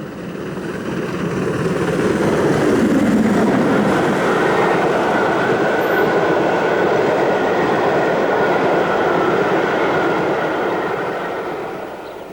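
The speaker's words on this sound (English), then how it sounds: "Burwarton Hall comes by with an up freight on the same day." Steam locomotive 6932 Burwarton Hall hauls an up freight train past, a steady rolling rumble of wheels and wagons that swells and fades over several seconds with no voices.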